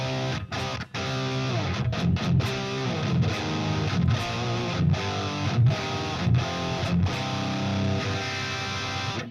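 Distorted electric guitar through an amp simulator plays a crunchy, chewy rock riff, loud and close, with sustained chords and rhythmic chugging throughout, no voices.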